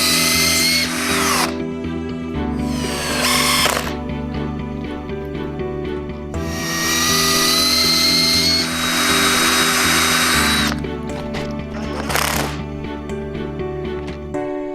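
A power drill drives stainless steel screws into common juniper deadwood on a developing tanuki bonsai, whirring in loud repeated bursts that rise and fall as each screw bites, close up with no talk.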